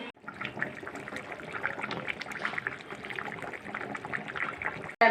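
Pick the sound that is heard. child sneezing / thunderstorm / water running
water running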